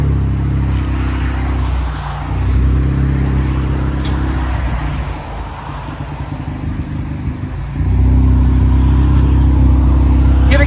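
A 2014 Ford Focus ST with a Flowmaster Flow FX exhaust revs loud and close, its raspy exhaust note rising, easing back and then climbing again to a sustained higher drone.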